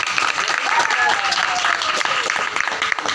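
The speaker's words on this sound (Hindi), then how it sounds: "जोर से ताली बजाइए।" Loud, dense clapping fills a village gathering in Aarsi gaon, Khargone. The clapping is continuous and close, with voices calling out over it.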